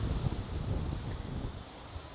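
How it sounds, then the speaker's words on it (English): Gusty wind buffets a microphone outdoors on a rural estate in South Bozeman, Montana, a steady low rumbling roar with soft rustling throughout and no pauses. "that's a little too windy."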